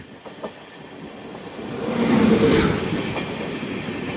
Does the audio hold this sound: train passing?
yes